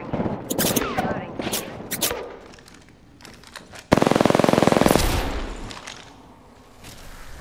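Rapid automatic gunfire bursts in the Apex Legends battle royale game, loud and close, with a sustained burst after scattered shots, under a speaking voice.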